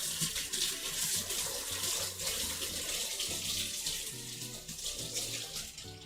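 A kitchen tap runs continuously into a sink, a steady close hiss and splash with faint clinks and handling under the flow.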